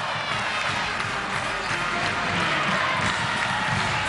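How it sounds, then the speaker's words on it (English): Basketball arena crowd at a 2006 Missouri Valley Conference tournament semifinal between Southern Illinois and Northern Iowa, a steady wash of cheering and clapping that stays loud for the full stretch with no distinct voices. "Big crowd for the semifinal."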